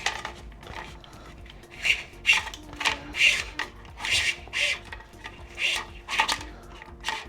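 A brake hose is pulled through a bike frame's internal routing, giving a series of close, short rubbing and scraping pulls in an irregular rhythm.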